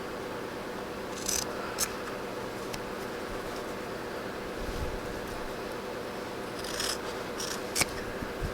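Scissors grade quilt seam allowances with a few crisp snips scattered over soft fabric rustling and handling noise, all fairly quiet and close.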